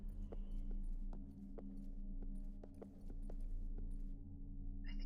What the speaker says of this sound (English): I think I hear footsteps.